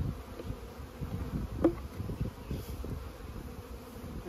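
Honey bees buzzing around hives, a steady close hum of many insects with occasional individual bees passing nearby, fairly faint and without talk.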